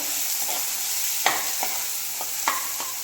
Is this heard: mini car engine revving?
no